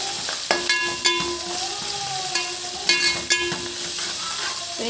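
Cumin seeds frying in hot oil for jeera rice, a steady bright sizzle with repeated clinks of a spoon stirring the pan.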